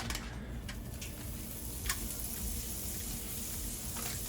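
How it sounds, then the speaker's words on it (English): Butter sizzles on a hot pan for pav bhaji, a close, steady frying hiss dotted with small ticking crackles and a couple of sharper pops. "I'm just going to take my butter and mush them onto the pan"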